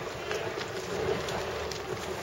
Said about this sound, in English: That wind is definitely on.